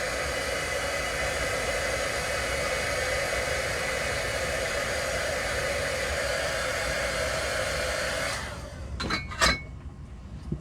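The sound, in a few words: heat tool drying watercolor ink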